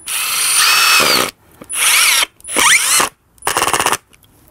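A power drill drives screws into timber in four loud whirring bursts, each rising and cutting off, with brief quiet pauses between them.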